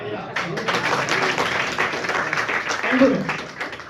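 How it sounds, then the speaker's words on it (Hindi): Audience clapping for someone speaker at a monthly business meeting, a steady round of applause with a voice talking over it, rising slightly near the end before fading. "एक बार जोरदार तालियां मैडम के लिए"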